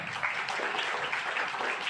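Audience at a homeopathy award summit claps briefly, a short, even burst of crowd applause at moderate, fairly distant level.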